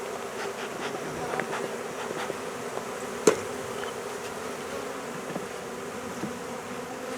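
A steady, dense insect drone of a swarm of honeybees being caught under a trampoline fills the whole stretch, with a single sharp knock partway through.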